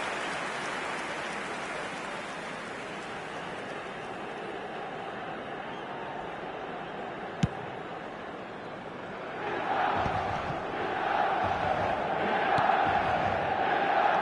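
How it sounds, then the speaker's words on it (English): A stadium crowd in a football video game, a broad continuous roar that swells louder and more excited in the second half, with a sharp click partway through and indistinct voices mixed into the crowd noise. "it certainly got the crowd going"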